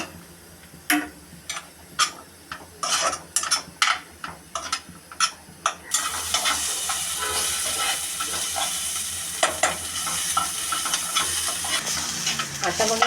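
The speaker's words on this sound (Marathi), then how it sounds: "एकदम कमी गॅस ठेवून मी हा कांदा परतवून घेत आहे." Chopped onion for misal pav fries in a pan on a very low flame. First comes a run of scattered spatula taps and scrapes as it is stirred, then a soft, continuous sizzle that fills the second half.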